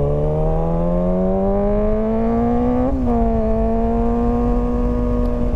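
A motorcycle carrying a passenger accelerates out of a turn, its close engine whine climbing steadily. It dips briefly at a shift, then rises again.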